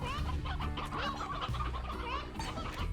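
Chickens in the video game Slime Rancher cluck in a dense, overlapping chorus, many birds at once, steady and fairly loud throughout with no talking.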